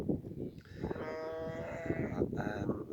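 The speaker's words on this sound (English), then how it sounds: "obviously you can hear cows in the background" Cattle in open fields moo once in a long, drawn-out low call, clearly audible but somewhat distant, set against outdoor background noise and a murmuring voice.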